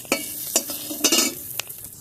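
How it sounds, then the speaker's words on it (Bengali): Green chillies stirred in a hot kadai, a spatula scraping in several quick strokes over a steady low sizzle of oil, close and clear with no talking. "কড়াইতে কাঁচামরিচ দিয়ে দিয়েছি এখন কাঁচামরিচগুলো ভেজে নেব"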